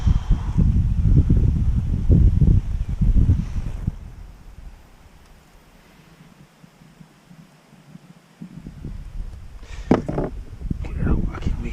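Wind gusting over a river while carp fishing from a boat, a loud low roar and buffeting against the microphone that eases off midway and then rises again, with someone talking over parts of it.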